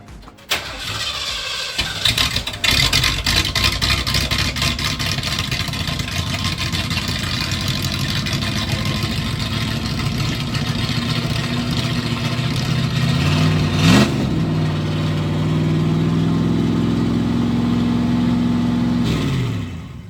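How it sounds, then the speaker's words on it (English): A 1979 Ford Bronco engine cranks and starts, then runs at a loud, rough idle close by, with a couple of rising revs and shifting tones near the end. "I just got the Bronco to move."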